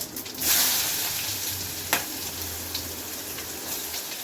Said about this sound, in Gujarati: હવે આપણે એમાં ડુંગળી એડ કરીશું